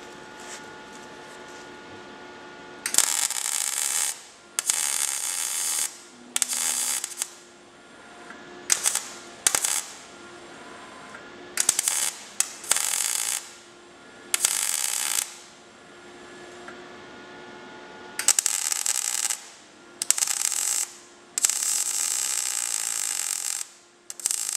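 Vertical-up MIG weld on steel: bursts of loud, steady crackling buzz lasting a second or two each, broken by short pauses, repeated many times close up with no talking.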